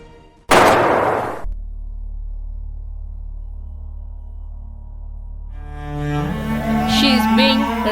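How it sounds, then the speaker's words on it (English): A gunshot sound effect played during a school stage skit, one loud sharp blast followed by a long low hum, then swelling music-like tones toward the end. "She is shot right on her forehead."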